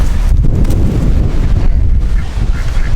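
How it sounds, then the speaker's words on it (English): Strong wind gusting across a farm, a loud continuous rumbling roar buffeting the microphone for the whole stretch with no let-up. "I think it's a little too windy to set it up."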